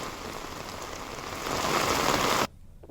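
Heavy rain pours down in Rishikesh, a dense steady hiss of drops hitting surfaces that swells louder midway, then cuts off suddenly near the end.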